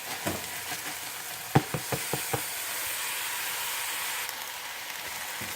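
Soaked rice sizzles softly in olive oil in a pan, with a handful of sharp spoon scrapes and taps as it is stirred, then a steady quiet hiss.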